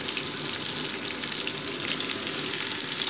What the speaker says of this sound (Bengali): এই পেঁয়াজ কুচিটাকেও আলুর সাথে মোটামুটি 2 মিনিট ভেজে নিচ্ছি।